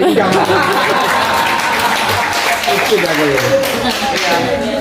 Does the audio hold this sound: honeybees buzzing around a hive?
no